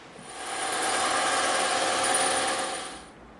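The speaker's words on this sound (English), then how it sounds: "Now we'll go over to the bandsaw and we'll cut all the rest of that out" A bandsaw cuts through EVA foam, a steady buzzing whir that swells in, holds for a few seconds, then fades as the cut ends.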